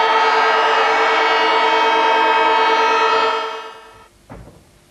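A loud, sustained siren wails across Windy Hill at a 1984 Essendon versus Hawthorn Australian football match, then fades away, followed by a single dull thump.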